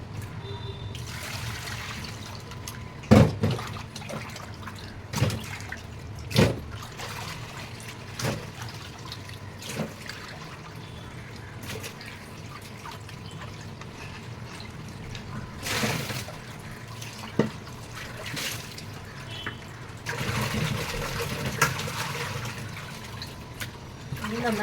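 Fish being rinsed with salt under running water, a steady wash of flowing liquid with occasional louder splashes and knocks, close by and continuing throughout.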